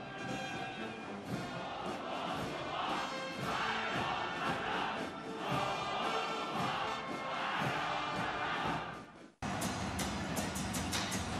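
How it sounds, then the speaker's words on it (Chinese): Huge crowd at the 2019 National Day 70th anniversary parade at Tiananmen in Beijing, a loud continuous roar of cheering and applause blended with band music, cut briefly near the end before resuming. "全场一次次迸发出热烈的掌声和欢呼声"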